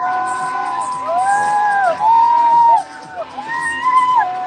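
Chelsea fans at a Chelsea v Wrexham football match cheer and chant loudly in the stands, with rising and falling sung tones from the crowd.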